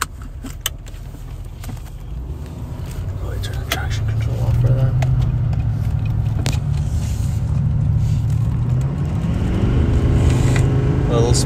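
A Duramax diesel pickup running a Banks tune and cold air intake pulls away hard with traction control off, its engine droning loud and steady and rising in pitch, with a voice briefly heard over it.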